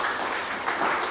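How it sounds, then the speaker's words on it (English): Audience applause for a man at a funeral homage, a dense, steady wash of clapping from many hands filling the short moment without a break. "Clap for him."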